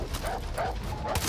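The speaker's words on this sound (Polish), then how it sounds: "Zły pies." A dog in Far Cry 6 giving several quick yelping barks and whimpers in a rapid uneven series, close and fairly loud, with a low rumble underneath.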